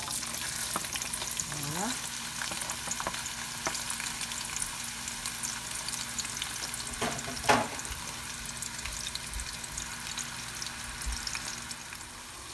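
Onions frying in oil in a pan for a Gabonese salted fish and aubergine dish, a steady close sizzle running throughout with occasional stirring scrapes and a brief voice at the start.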